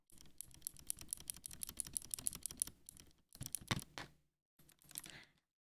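Clicky mechanical keyboard switches fitted in a board with keycaps being typed on, a fast run of sharp clacking keystrokes that stops, then two shorter bursts of typing close up with no voices.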